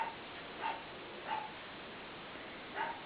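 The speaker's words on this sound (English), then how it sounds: "you hear my dog barking in the background" A dog barking in the background of a home craft room, four short muffled barks spaced irregularly, faint and distant over a quiet room hiss with no talk.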